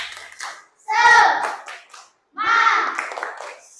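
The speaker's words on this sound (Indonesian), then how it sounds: "Ya, tepuk semangat." A school class does a rhythmic group clap called tepuk semangat, two loud bursts of many hands clapping together with a short pause between them and children's voices mixed in.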